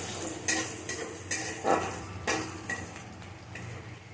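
Chopped garlic and onion sizzle in hot oil in a pan under a steady hiss. A spatula scrapes and taps against the pan about eight times in an irregular rhythm, close up, with no voices.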